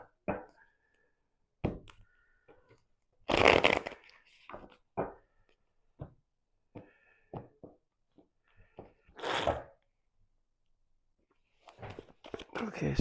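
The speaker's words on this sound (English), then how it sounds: "I'm just shuffling away." Tarot cards being shuffled in bursts of soft riffling and tapping, close and fairly quiet, with pauses between, while a person talks on and off.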